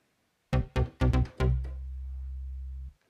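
Roland Juno-6 synthesizer patch pitched an octave lower: five quick staccato low notes, then one long sustained bass note that holds for over a second before cutting off, loud and alone.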